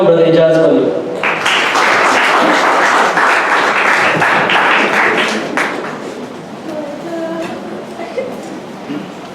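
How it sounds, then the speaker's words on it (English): An audience at an evening seminar talk claps to welcome a speaker, a loud, dense burst of applause that starts after a moment and runs for several seconds before thinning and fading toward the end. "So with a round of applause, I'd like you all to welcome Brother Ejaz Bhalloo."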